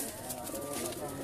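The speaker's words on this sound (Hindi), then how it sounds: "ये जी इनका गोल्डन कबूतर है जी।" A golden pigeon at a pigeon fanciers' gathering gives soft cooing, faint and low under background chatter and ambient noise.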